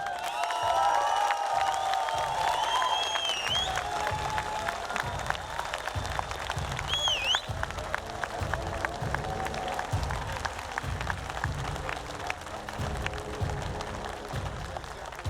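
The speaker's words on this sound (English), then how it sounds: "So big round of applause for yourselves." Sustained applause from a large crowd at a League of Legends esports final in Warsaw fills the space, with steady clapping, scattered cheers and whistles rising over the roar.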